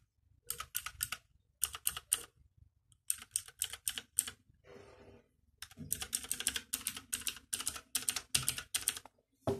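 Keys on a Razer Huntsman gaming keyboard clatter in quick, crisp bursts of clicks, close and clear, separated by short pauses, with no talking.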